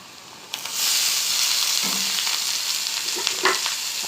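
Mashed boiled snake gourd tipped into a hot frying pan bursts into a loud steady sizzle, with scraping stir strokes and clatter near the end.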